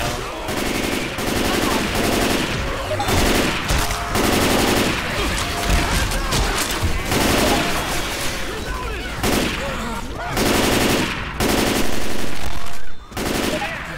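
Dense, rapid gunfire rattles through a Left 4 Dead 2 zombie match in repeated loud bursts with short gaps between them, and game voices come through underneath.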